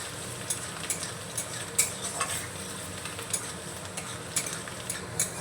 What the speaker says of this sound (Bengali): এবার আদা আর রসুনকে একসঙ্গে আমি হালকা করে ভেজে নেব